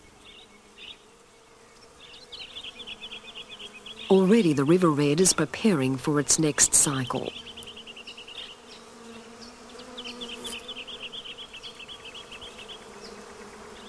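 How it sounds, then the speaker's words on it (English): Insects and bees buzzing around river red gum blossoms on a floodplain, a continuous soft drone with chirping birds in the background, interrupted in the middle by someone narrating. "It explodes with colour and the air is full of insects."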